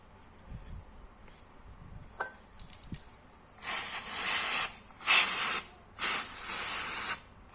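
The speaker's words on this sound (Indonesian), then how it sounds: "Tinggal semprot-semprot terus bersihin." Aerosol cleaner is sprayed onto the oily parts of a motorcycle CVT in several hissing bursts, each lasting about a second, following a few quieter handling clicks.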